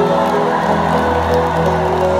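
A crowd at a concert at the Yubileyny sports complex in Saint Petersburg applauds and cheers loudly, a dense roar of clapping and shouts carrying over a sustained musical tone.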